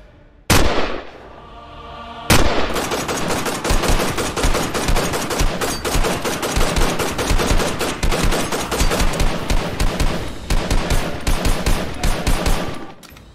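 Gunfire as a sound effect in a horror story: a single loud shot, then after a pause a long, rapid burst of automatic fire rattling on for about ten seconds, loud and close.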